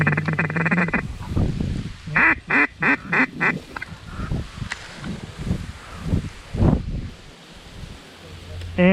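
Mallard ducks quack in a rapid series of loud nasal calls during relentless high wind while hunting, with gusts rushing across the mic and someone talking quietly between the calls.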